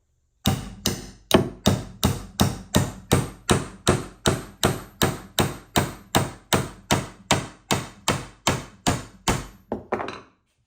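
A big nail hammered into wood held in a vise, about twenty evenly spaced sharp blows in a steady rhythm, loud and close with no talk.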